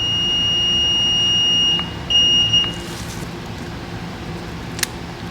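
Continuity beeps from a multimeter testing the volume button contacts of a Motorola G Power 2022 phone, a steady electronic tone sustained for about two seconds, then a second shorter tone after a brief gap, with faint clicks in the background.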